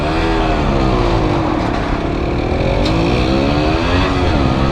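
A five-speed motorcycle engine revs hard and loud up close, its rasping tone sweeping up and down in continuous waves without a break.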